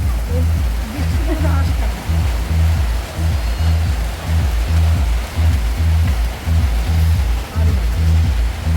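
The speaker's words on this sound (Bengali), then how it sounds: "বৃষ্টি পড়তেছে অত খায়ও না হ্যাঁ, বৃষ্টি পড়তেছে" Heavy rain falls in a dense, constant roar close by, with people talking in rhythmic bursts over the downpour throughout.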